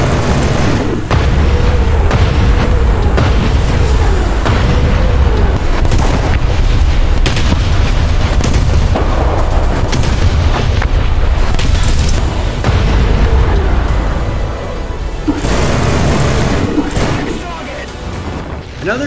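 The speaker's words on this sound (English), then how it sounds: "this 5-barrel rotary 25mm cannon is just capable of against these tanks" Continuous, loud booming fire from a 5-barrel rotary 25mm anti-aircraft cannon in War Thunder, rapid bursts and explosions against tanks, a dense barrage of game combat with a voice talking over it.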